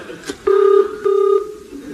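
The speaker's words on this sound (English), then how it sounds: "Now, let us phone up this warehouse." A comedy radio sketch's telephone being dialed: two steady electronic dial tones in succession, each lasting about a third of a second, with a faint click before them and no talk over them.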